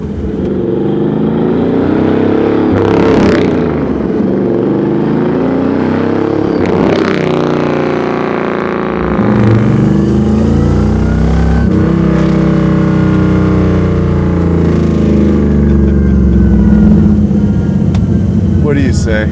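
Custom 1951 Ford coupe with its engine revving, a deep throaty burble rising in several sharp blips and swells, loud and close, with people talking over it at times.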